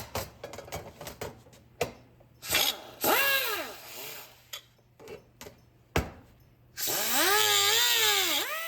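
A power tool grinding down a plastic tail light part for a 1955 Chevy LED conversion, heard as close, whining bursts that start and stop, with a longer sustained grind near the end.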